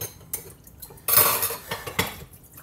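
Dishes, pots and cutlery clatter and clink in a sink during washing up, with a loud burst of scraping and rattling midway followed by intermittent knocks, close and without speech.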